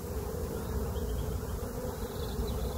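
A steady, dense hum of many honeybees buzzing close by in an open National hive, continuous and fairly loud with no pauses.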